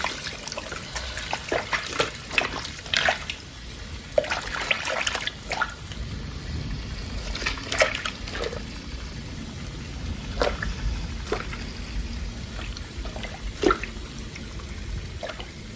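Hot water sloshes and drips as a pre-stamped cross stitch fabric is washed by hand, with irregular splashes and trickles over a steady low background hiss.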